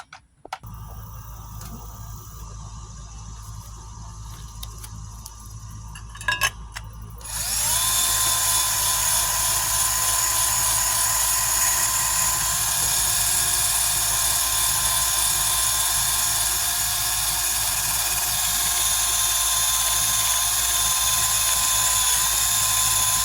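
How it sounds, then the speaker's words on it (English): A power drill spins a wire wheel against rusty metal parts with a steady high whine and rough brushing hiss, starting after a few seconds of quieter handling and running loud and continuous. "Just a simple wire wheel on a drill."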